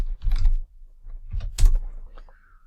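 A few bursts of typing on a computer keyboard, clustered clicks with gaps between them, close and moderately loud, with no speech over them.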